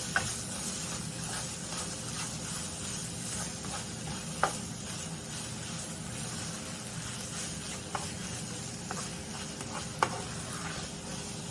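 Onion powder and Italian seasoning being stirred into a cooking mixture in a pan, a steady sizzling hiss with occasional sharp spoon taps, heard close and without speech.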